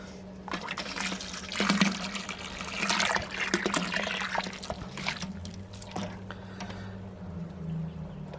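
A BrewZilla Gen4 brewing system's pump circulates cleaning water, a steady liquid churn and trickle with a low pump hum running throughout, fairly close, with a few sharper splashes and clicks over it.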